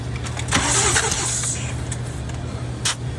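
A BMW M4 engine with two low-compression cylinders cranks over on the starter, a steady mechanical whir lasting a few seconds, close and fairly loud with a low hum underneath.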